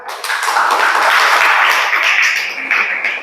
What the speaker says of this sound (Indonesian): Tepuk tangan dulu untuk Rita.